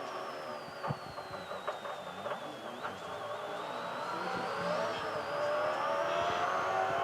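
Gibson Motorsport Falcon V8 race car at Sandown in 2001 shifting gears: a loud, continuous engine roar that drops and climbs again through the gear change, under faint commentary.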